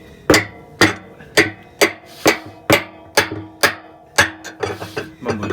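A hammer strikes a tool about ten times in a steady rhythm to tighten a part on a Samsung top load washer, each hit a sharp close metallic knock with a brief ring.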